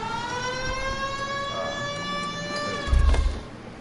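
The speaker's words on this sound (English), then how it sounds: "Turn on the siren and pull her over." A police car siren in the video game L.A. Noire wails with rising, sweeping tones over engine hum, loud and steady, with a brief low thump near the end.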